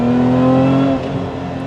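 Lotus Emira with a Toyota-sourced V6, heard from inside while accelerating hard: a loud, steady engine drone with a strong held tone that drops as it shifts, then continues more roughly at a lower pitch.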